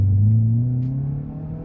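Engine and road noise inside a Subaru Forester truck conversion, a loud low rumbling drone with a steady engine hum that fades slightly as it goes.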